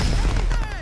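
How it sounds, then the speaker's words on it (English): A firework explodes in the video game GTA 5 on PC, a loud, close burst of crackling blasts that fills the moment before fading. "Oh, take a firework to the face."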